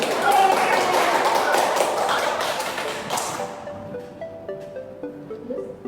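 Classroom audience clapping for a student's correct answer during a microteaching session, a brisk round of hand claps fading out after about three seconds, followed by faint tapping and light tones.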